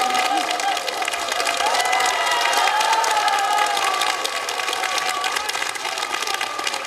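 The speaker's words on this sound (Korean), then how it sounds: "가민 씨에게 다시 한번 큰 박수로 감사드리겠습니다" A studio audience at a televised Buddhist broadcasting anniversary concert cheers and applauds steadily, loud and continuous, with a voice speaking over the crowd.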